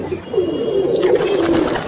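A pigeon coos nearby in a low, rolling, throaty call, repeated softly against faint background noise.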